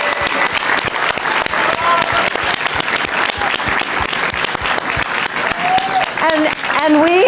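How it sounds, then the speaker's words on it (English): Sustained audience applause at a live science-and-food event held at a museum, loud and dense throughout, with a few voices calling out near the end. "a huge round of applause for our guests"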